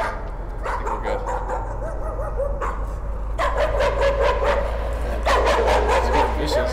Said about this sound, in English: It sounds like it's just a dog.